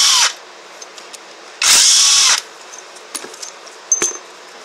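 A power tool drives bolts out of a seized AC compressor housing in loud whirring bursts, one short and one longer, with faint clicks and rattles of metal parts between them.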